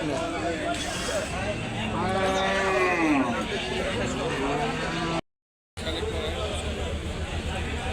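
A cow lows in a long, drawn-out call over busy crowd chatter and background noise at a village cattle market, followed by a brief dropout and continued murmur.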